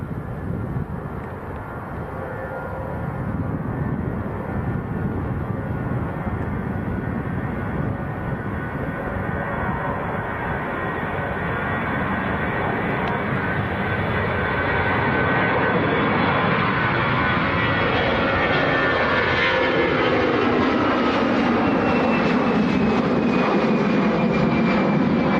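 A jet airliner passes at Lanzarote Airport in a strong crosswind, its engine roar steady and loud throughout, swelling slightly and rising in pitch toward the end, with no voices over it.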